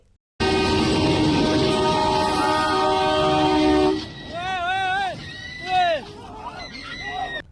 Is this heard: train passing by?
yes